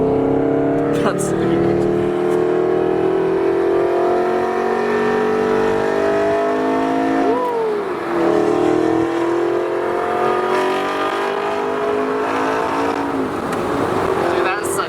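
A McLaren 720S sports car engine revs hard, its pitch climbing and dropping in a loud sustained drone, with voices briefly audible nearby.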